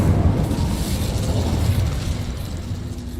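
A fiery Incendio spell cast in the Hogwarts Legacy video game, a dense roaring burst that rumbles low and steady for the whole few seconds, loud and close with no voices over it.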